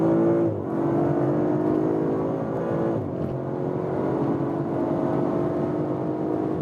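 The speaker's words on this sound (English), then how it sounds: "hitting the red limiter." An Audi RS5 Sportback engine revs hard toward the rev limiter, a loud, steady, droning engine roar with brief dips where the pitch drops and climbs again, heard from inside the car at speed.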